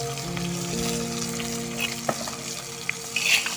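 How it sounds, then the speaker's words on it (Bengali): Stinging catfish (shing fish) sizzling as the pieces fry in oil in a pan, a steady bright crackle with a few scrapes and taps from a spatula, close up with no voices. "মাছগুলো খুব সুন্দর করে ভাজা করবো"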